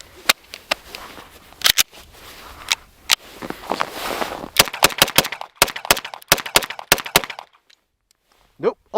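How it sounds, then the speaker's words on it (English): An HK45 pistol fires cold .45 ammunition at a range, around ten sharp, loud shots in an irregular rhythm, some close together, with handling clatter between them and a final click near the end. "So, here's my HK45. I forgot to keep any ammunition warm, so we're going cold."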